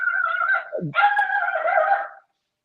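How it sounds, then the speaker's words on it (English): Excited pet dogs in a home bark and yip in quick succession, a close, loud run of high, strained barks with one short dip, alone until it stops abruptly. "and now the dogs are excited"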